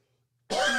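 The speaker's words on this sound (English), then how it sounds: "This is me choking on my own saliva." Silence, then a single harsh, close cough bursts out abruptly, raspy and strained like someone choking.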